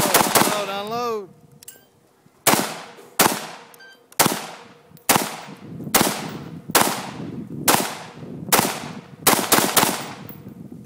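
An AR15 rifle fires about ten sharp, loud shots at a water jug in an irregular rhythm, each crack trailing into a short echo outdoors, with a brief voice before the first shot.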